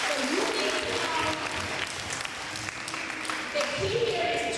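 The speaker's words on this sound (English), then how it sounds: "A round of applause." Audience applause fills a school event at Public School 36 in the Bronx, a steady crackling wash of clapping from a crowd, loud and continuous throughout with a brief dip midway and voices mixed underneath.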